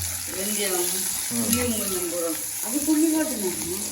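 Anchovy curry sizzles and fries in a pan on a gas stove while being stirred, a steady close crackle under voices talking over it.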